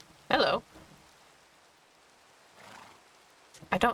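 Minecraft horse whinnies: one loud, sharp neigh near the start and another at the end, with faint rain hissing and a soft murmur between.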